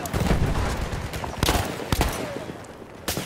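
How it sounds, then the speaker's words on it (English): Loud in-game gunfire during a team shooter match, with a dense barrage of shots and several sharp, close impacts standing out in a continuous roar of battle noise. "Ooh, we got shot."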